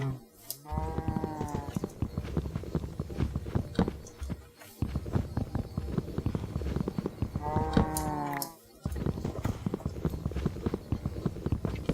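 Cows mooing in the video game Minecraft, two drawn-out moos, one early and one near the end, over steady busy game sounds.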